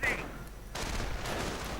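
Gunfire crackles through a real-time strategy video game battle, starting as dense broadband bursts about midway and then continuing steadily amid constant battle noise.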